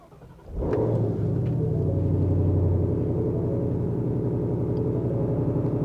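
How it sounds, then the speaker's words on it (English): A 2021 Ford Mustang Shelby GT500 with a valved exhaust cranks and fires up, then settles into a deep, loud, steady rumbling idle close by. "We will fire this engine up."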